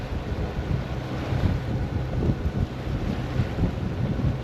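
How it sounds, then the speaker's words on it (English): Steady wind blowing at about 13 knots across a sailboat anchored in Emerald Bay, a continuous broadband rush with low rumbling gusts and faint water movement, no voices. "So still blowing 13 knots here at Emerald Bay."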